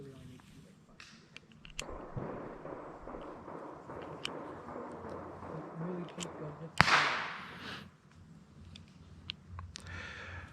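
A single sharp, loud gunshot from a Clerke 1st revolver, with a short decaying echo, stands out mid-clip over quiet background noise and faint movement.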